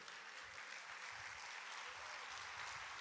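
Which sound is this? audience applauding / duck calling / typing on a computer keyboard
audience applauding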